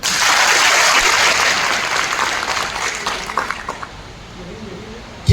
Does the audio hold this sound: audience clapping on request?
yes